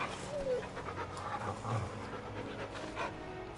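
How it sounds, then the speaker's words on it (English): Dog panting in the Final Fantasy 16 video game: rapid, even breaths continuing steadily at moderate loudness over a noisy game background. "Good dog. Good dog. What a fine hound."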